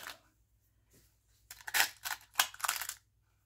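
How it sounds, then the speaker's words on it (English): Indoors, a cat plays with a plastic bag, making quiet crinkling and rustling bursts that come in clusters after a near-silent start. "One of my boys is behind me playing with a plastic bag"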